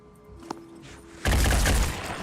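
A burst of gunfire in a tactical squad video game erupts after a quiet moment, a loud, dense volley of shots and impacts that holds for about a second before easing off.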